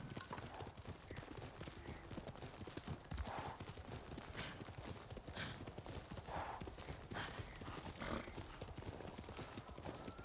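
A horse galloping in the video game Ghost of Tsushima, with a steady, rapid clip-clop of hooves running throughout, close and continuous over a busy ambient game soundscape, with no talking.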